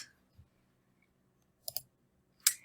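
Computer mouse clicks while working in Vectorworks 2023 software: a quick pair of close, crisp clicks, then a single sharper click a moment later, all in a quiet room with no talking.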